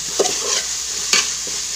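Onions sautéing in a pan for chicken roast, a continuous sizzle broken by two distinct scrapes of a spoon stirring, close and fairly loud.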